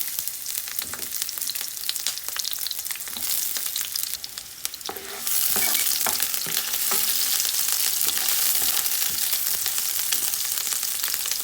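Garlic and onion sauté in a hot pan with a dense, steady sizzle and crackle, scraped and stirred intermittently, growing louder and fuller about halfway through.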